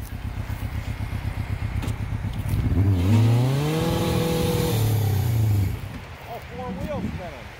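A homemade 4x4 cross kart stuck on a hill with all four tires off the ground, its engine chugging, then revving hard and holding high for a few seconds before dropping, with people talking nearby.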